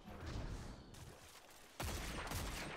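Gunshots in a video game: rapid bursts of firing, one volley, a brief quieter gap, then a louder, denser barrage near the end.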